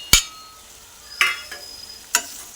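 Egg junnu curry being stirred into a pan, three sharp scraping clatters of a spoon against the pan spaced about a second apart, close and moderately loud over a faint background.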